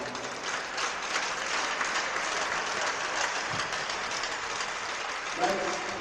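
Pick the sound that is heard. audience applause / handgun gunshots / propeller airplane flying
audience applause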